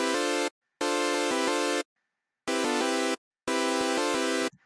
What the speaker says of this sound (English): We have our new patch of Serum with the MIDI and right now with just the basic saw wave.